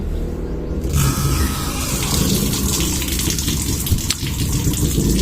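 Water gushes steadily from a tap for several seconds, a continuous broadband rush that starts abruptly just before the one-second mark.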